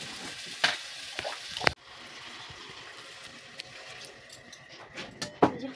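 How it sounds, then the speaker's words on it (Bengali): Water splashed into potato curry frying in a pan: a sharp hit, then a steady soft hiss and bubbling sizzle that carries on with a few clinks and knocks from the kitchen. "আলুর তরকারিটা জল দিয়ে দিলাম"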